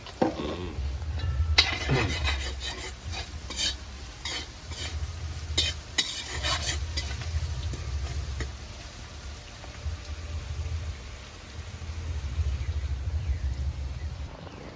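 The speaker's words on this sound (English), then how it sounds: "throw a little salt inside them onions and things when it's frying up" Onions sizzle and crackle in a hot pan while a spoon stirs and scrapes, with brief clatters of cookware over a steady frying hiss.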